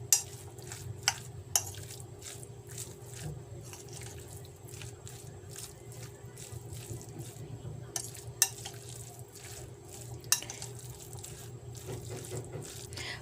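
Lumpiang shanghai filling with carrots is stirred in a bowl, giving soft, steady scraping and light clinks of the utensil against the bowl, with a few sharper taps along the way.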